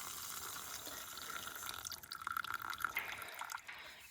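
A small amount of water pours into a cup outdoors over concrete, a faint trickle that becomes a burbling, splashing fill with a few bright drips, with no speech.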